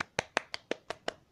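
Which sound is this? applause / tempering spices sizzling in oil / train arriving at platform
applause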